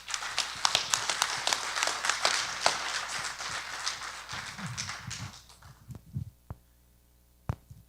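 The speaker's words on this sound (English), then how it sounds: "And let's give her a round of applause." Audience applause at a community outreach presentation, a dense burst of clapping for about five seconds that thins into a few scattered claps and then stops.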